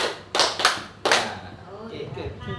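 An audience of teachers claps on command at a school discussion session, three sharp bursts of clapping in quick succession, with a voice continuing faintly afterward.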